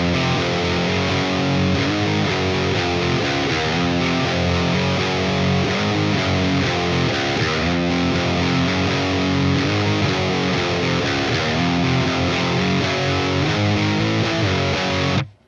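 Heavily distorted electric guitar in drop D tuning chugs through a power chord riff, loud, thick and continuous, ending in an abrupt cutoff.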